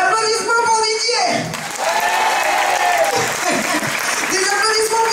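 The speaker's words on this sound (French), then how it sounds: "Des applaudissements pour Didier." A concert crowd applauds for Didier during a live show at a Paris music venue, steady loud clapping filling the whole stretch with a voice speaking over it.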